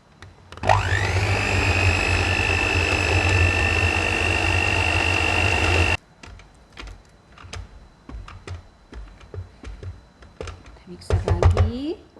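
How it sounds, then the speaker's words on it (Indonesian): Electric hand mixer beating cake batter made with brown sugar for a chocolate almond banana bread, a loud steady whir running about five seconds before stopping abruptly, followed by quiet clatter and a brief voice. "Mixer lagi."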